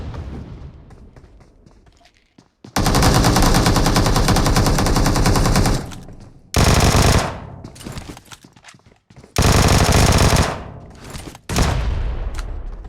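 Automatic gunfire in a PUBG team fight comes in several loud, dense bursts separated by short gaps, with quieter distant shots between them.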